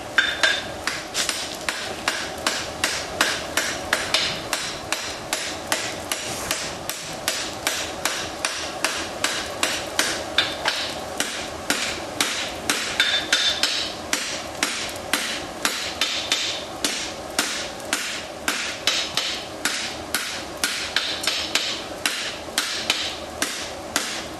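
Hammer striking hot metal on an anvil while forging a wedge, a long run of rapid, evenly paced ringing blows, loud and close throughout with no talk.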